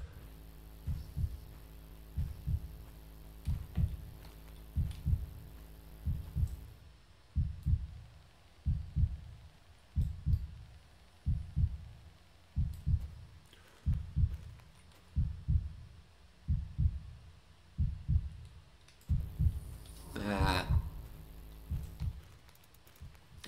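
A pounding heartbeat in a scary video game keeps an even lub-dub rhythm through the whole stretch, loud and close. A rising, warbling electronic tone cuts in briefly near the end.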